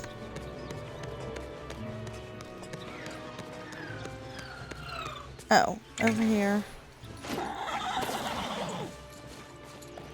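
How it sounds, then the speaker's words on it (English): Horse in the Disney Dreamlight Valley video game neighing and whinnying over clip-clopping hooves, with a bright game soundtrack beneath and a person speaking briefly. "Where is my horse?"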